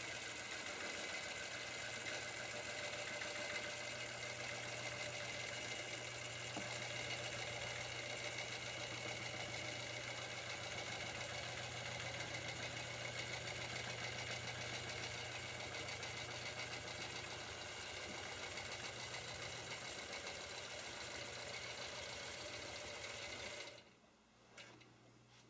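A longarm quilting machine stitches a pantograph with the vertical lock on, giving a steady, loud motor whir and rapid needle chatter that runs without a break before cutting off abruptly near the end.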